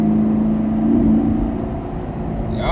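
A 2019 Chevrolet Camaro SS V8 hums and rises in pitch as the car slides with lost traction, a close, steady engine drone with a brief revving swell near the end.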